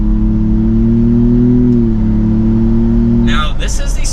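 A 2024 Ford Bronco Big Bend Sasquatch with the 2.3 liter engine in third gear pulls under acceleration, a steady droning engine note rising slightly in pitch before dropping back, heard from inside the cabin.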